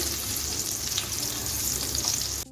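Potatoes fry in leftover fish-frying oil over a medium gas flame, giving a constant close sizzle and hiss that stops abruptly at the end. No one speaks.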